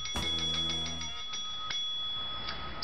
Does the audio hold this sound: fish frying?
no